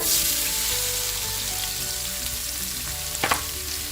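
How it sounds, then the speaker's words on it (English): Whole spices and onions frying in oil in an Instant Pot for Ambur-style beef biryani, a steady loud sizzle throughout, with a brief clatter of stirring near the end and no talk. "So we're going to start with whole spices first, and then we'll start sauteing our onions."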